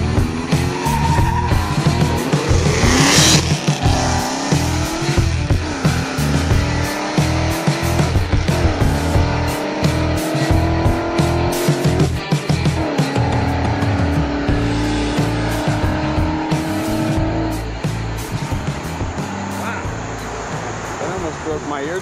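Two Ford Mustangs drag racing, a yellow EcoBoost car against a boosted 2016 Coyote V8, with loud roaring engines and tire squeal through the run, rising and shifting repeatedly, close and overwhelming, with voices faintly underneath.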